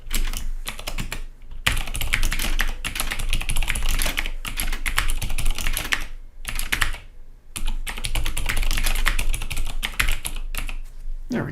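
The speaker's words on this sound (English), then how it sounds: "I'm going to type this, and I would like you to type it the same way." Rapid, steady typing on a computer keyboard clatters up close in dense bursts, broken by a few short pauses.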